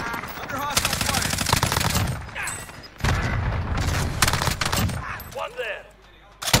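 Call of Duty Warzone gunfire: dense, loud bursts of rapid automatic shots and heavy booms, nearly continuous, with game voice chatter mixed underneath.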